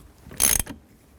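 Tightening a nut on the steering column of a 2003-06 GMC Yukon during a cruise control combination switch replacement, heard as one short, fairly loud mechanical burst of ratcheting metal lasting about a quarter second, followed by a faint click.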